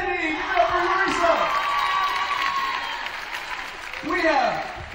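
Applause and cheering from a crowd fill a school spirit week assembly at Gladstone High School, a steady roar of clapping and whoops with an amplified announcer's voice over it, swelling again near the end.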